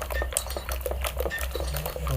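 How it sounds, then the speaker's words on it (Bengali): A utensil beating sandwich spread mixed with soybean oil in a bowl, quick irregular scraping and clicking strokes repeating steadily at close range over a low background hum. "সয়াবিন তেল দেওয়ার পরও মিনিমাম আরও 4 থেকে 5 মিনিট এভাবে ভালো করে ফেটতে হবে।"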